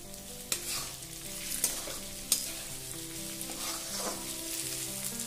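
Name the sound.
stirring capsicum and vegetables frying in pan for veg biryani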